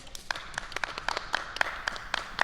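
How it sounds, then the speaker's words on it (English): A small group claps for three improvement winners, a sparse, irregular patter of hand claps close to the microphone lasting a couple of seconds. "How about a round of applause for our 3 improvement winners?"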